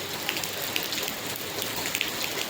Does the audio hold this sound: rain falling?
yes